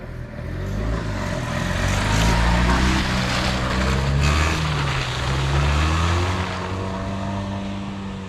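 A car revs hard as it ploughs through deep, very muddy and slippery ground in off-road mode, its engine loud and close with a strained, rising drone that holds steady throughout, with no talking.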